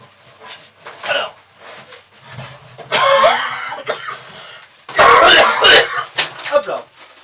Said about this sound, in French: votre serviteur est un peu en train de tousser